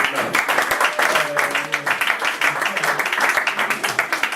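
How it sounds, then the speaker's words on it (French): An audience at a Father's Day gathering claps for a boy named Daniel, many hands striking in a quick, fairly regular pattern with voices faintly underneath. "On va applaudir Daniel."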